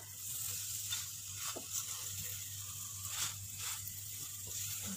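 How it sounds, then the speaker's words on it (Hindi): A chana dal paratha fries in oil on a pan over a very low flame, giving a soft, steady sizzle with a few faint crackles and stirring scrapes, under a low hum, with no talking. "इसे बिल्कुल धीमी आंच पर हल्का ब्राउन होने तक इसे हम सेक लेंगे।"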